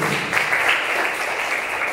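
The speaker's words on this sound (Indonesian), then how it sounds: "Tepuk tangan untuk Tuhan Yesus Kristus." Applause from a church congregation during an Indonesian sermon on tithing, a steady dense wash of clapping filling the two seconds at moderate loudness with no clear voices.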